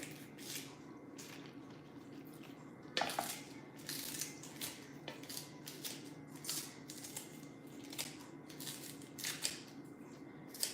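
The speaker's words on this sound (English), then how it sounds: "I find using the scissors is so much easier with the onion versus with the green onion" Quiet, crisp snipping from scissors cutting green onions repeats in a loose rhythm, close to the microphone against a faint background hum.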